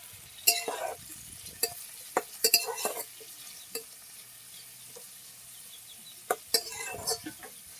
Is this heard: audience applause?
no